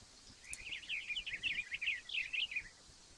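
Birds chirp in the video game Minecraft, a quick series of light, high, twittering calls in short bursts, fairly faint and alone.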